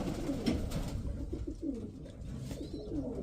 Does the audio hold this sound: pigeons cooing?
yes